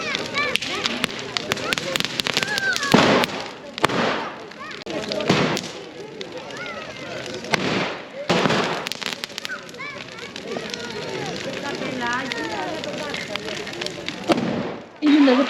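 Fireworks rockets at an Orthodox Easter celebration on Chios, with repeated sharp bangs and crackling bursts at irregular intervals, some loud and close, over crowd noise.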